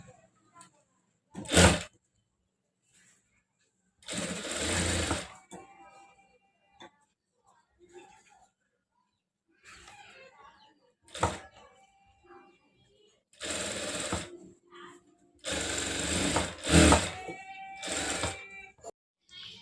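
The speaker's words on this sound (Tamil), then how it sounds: "அப்படியே இதில் ஓரத்தில் தையல் போட்டுக்கிடுவோம்." Sewing machine stitching along the edge of a bridal silk saree blouse, several short bursts of rapid whirring separated by pauses, with quiet talk in between.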